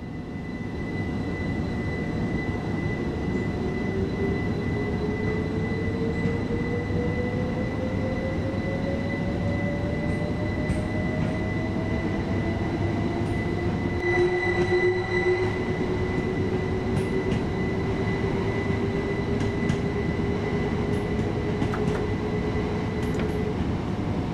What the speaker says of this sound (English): Let's bring the train out of the station.